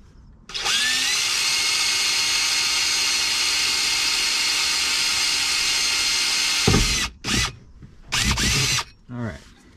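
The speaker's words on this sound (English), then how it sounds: "But first I'm gonna drill a pilot hole." A power drill whines continuously for several seconds while boring a hole, then stops and gives a few short bursts.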